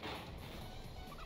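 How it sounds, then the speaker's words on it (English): A Pokemon cry from the video game Pokemon Infinite Fusion sounds like a turkey gobble: a brief, rough, warbling burst that fills the whole moment at moderate loudness, with no voices. "That's literally what, like, turkeys sound like, though."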